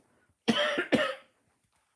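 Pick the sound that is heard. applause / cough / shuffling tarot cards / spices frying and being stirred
cough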